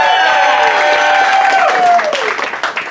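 Audience applause and cheering fill a comedy show at Valley Bar in Phoenix. It is loud and dense at first, then thins out and fades near the end, with a voice speaking briefly over it.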